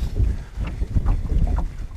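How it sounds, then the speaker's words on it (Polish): Gusty wind buffets the microphone in low rumbling bursts on a cold day while spin fishing from a boat, with a faint watery wash in the background. "zimno, wiatr wieje"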